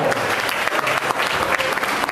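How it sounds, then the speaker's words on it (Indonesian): An audience at a public lecture at UKI breaks into loud, dense applause, many hands clapping together at close range in an even, sustained burst with no talking over it. "Tolong tepuk tangan buat videografer saya, Ginanjar."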